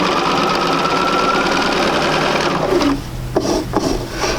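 Domestic sewing machine stitching quarter-inch orange and red quilting fabric strips together, a steady close mechanical whir and rasp that stops near the end, leaving a few soft handling taps.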